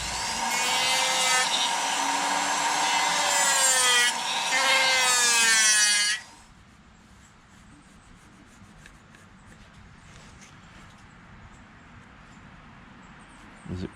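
Rotary tool fitted with a roughing bit carving a brown trout out of wood: a loud, high whining grind with shifting pitch runs for about six seconds, then cuts off, leaving faint room noise and small handling sounds.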